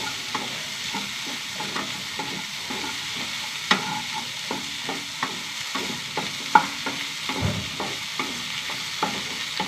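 Okra upperi, a Kerala-style stir-fry with grated coconut, sizzles and fries in a pan while a spatula scrapes and stirs it with steady irregular clicks, close and fairly loud with no talking.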